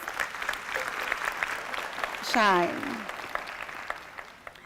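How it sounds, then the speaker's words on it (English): An audience applauds in the hall at a university graduation ceremony, a steady wash of clapping throughout, with a single word spoken and a brief sung or called tone rising over it midway. "May we give her a round of applause."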